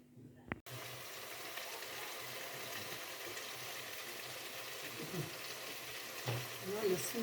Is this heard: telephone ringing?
no